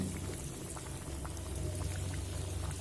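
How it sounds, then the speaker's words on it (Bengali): Vermicelli snacks deep-frying in oil over a low gas flame, a steady dense bubbling and crackling sizzle that runs unbroken throughout with no voices. "বাকি নাস্তাগুলো ভেজে নেব"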